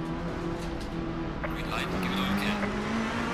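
A race car in the ACC racing game drives alone on a track, its engine note droning and shifting pitch steadily beneath a voice talking over it.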